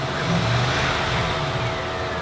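A salvage car's engine runs loudly and close, a continuous rumbling drone that swells slightly as if revved.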